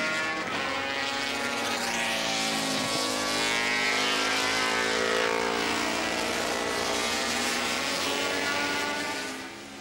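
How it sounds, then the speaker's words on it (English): A works Suzuki 750 racing motorcycle rounds Paddock at a 1975 Brands Hatch superbike race, its engine a loud, continuous high-pitched wail that swells as it passes and then begins to fade. "number 8, Percy Tate, on the Work 750 Suzuki, going through paddock"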